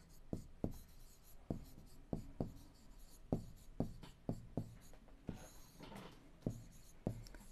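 Chalk or marker strokes on a board as an equation is written for a Class 7 maths lesson, heard as repeated crisp taps and scrapes in a steady, uneven rhythm, close and clear with almost no talk.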